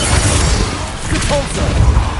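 Blasts from the Confringo fire spell in Hogwarts Legacy crash through dense, loud spellcasting and combat noise. The impacts are continuous, with no clear gaps between them.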